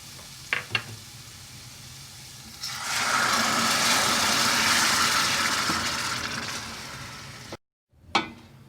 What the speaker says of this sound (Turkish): biraz kavurduktan sonra hemen domatesimizi de ilave edelim